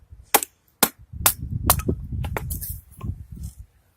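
An HX Outdoors TD-01 full-tang knife chops elm hardwood into kindling. Several sharp, crisp cracks land close by at irregular intervals, followed by rougher scraping and splitting sounds between strikes.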